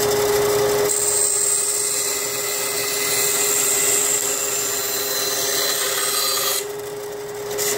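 A Craftsman 10-inch three-wheel band saw cutting 5/8 plywood, a loud continuous motor hum with steady rasping blade noise through the wood that drops away near the end.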